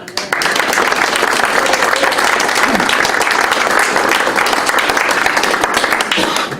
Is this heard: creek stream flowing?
no